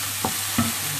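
Quiet sizzling from food frying in a hot pan, a steady hiss with two brief stirring scrapes, close up and with no talking.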